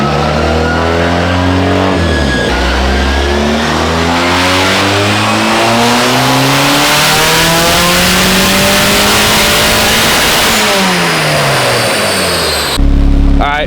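A BMW E36 with a swapped Volkswagen turbo engine roars through a full dyno pull at loud, close range, revs climbing steadily for about ten seconds before dropping off abruptly.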